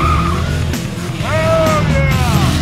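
A car burns rubber, its engine roaring loudly while the tires let out a sharp, rising squeal. The squeal holds for over a second up close.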